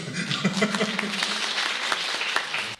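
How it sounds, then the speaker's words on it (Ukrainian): Audience applause in a hall during a Ukrainian poetry and music event, lively clapping with some individual sharp claps standing out, nearby and fairly loud, ending abruptly. "Отут можна аплодувати"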